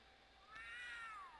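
A single drawn-out meow from a cat in The Sims 3, rising then falling in pitch, faint and clear over quiet background.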